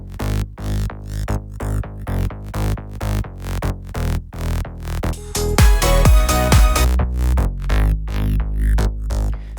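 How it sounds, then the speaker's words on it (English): An electronic track's bass drop, with a plucky synth bass and a deep sub bass hitting in a choppy, rhythmic pattern, then a sustained, brighter, louder swell of layered synths midway before the pulsing pattern returns. "then the bass goes into the drop, which sounds like this"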